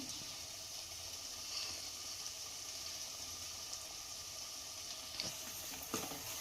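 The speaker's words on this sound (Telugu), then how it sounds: "తేలినాక అల్లం వెల్లిగడ్డ పేస్ట్ వేసేసుకోవాలి" Ginger-garlic paste sizzling in hot oil in a pan for Andhra fish curry, a steady close hiss with faint crackles and an occasional stir, no talk.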